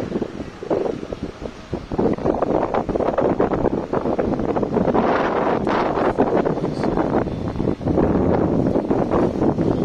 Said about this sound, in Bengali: অনেক আরামের বাতাস।